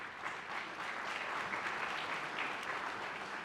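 Audience applause at a Berks County celebration kickoff event at the Miller Center, steady sustained clapping from a crowd throughout, moderately distant.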